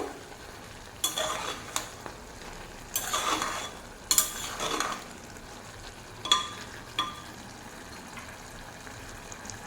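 Bottle gourd and prawns are stirred in a pressure cooker with a spoon. Intermittent scraping and clattering strokes come over a faint background sizzle, with short bursts spaced irregularly and no talk.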